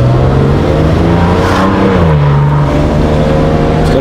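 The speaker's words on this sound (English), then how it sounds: "So we're just in the car going to the event." Steady engine drone inside a moving 2024 Maserati GranTurismo, a loud continuous tonal hum with slowly shifting pitch as the car cruises, filling the cabin without a break.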